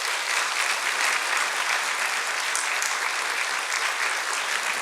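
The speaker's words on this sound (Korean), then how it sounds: "큰 박수로 환영해 주시면 감사하겠습니다" A lecture audience gives a speaker a warm welcome with sustained, even applause: dense, continuous clapping from a large crowd, steady in loudness throughout with no voices above it.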